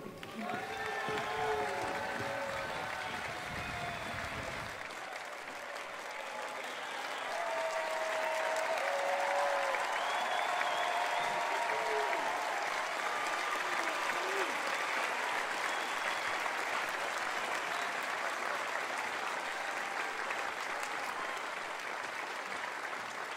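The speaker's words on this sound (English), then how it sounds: "Let us once again applaud" Sustained applause from a large audience at a college diploma ceremony, a dense wash of clapping that swells and holds steady for over twenty seconds, with faint voices and cheers mixed in at the start.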